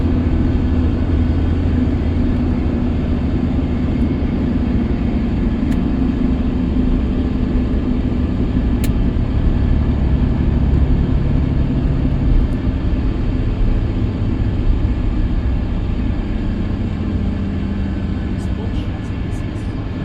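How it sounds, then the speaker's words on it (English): An MCA 14.5 m motor coach with a GM Series 60 engine and Marathon body hums at a loud, steady low drone for the whole stretch, a constant close rumble with faint small clicks. "This is a motor coach."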